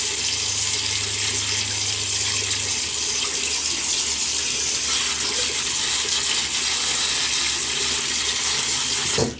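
Tap water gushing steadily into a sink to wet the face before a shave, a loud, continuous close hiss that runs unbroken until it cuts off at the very end.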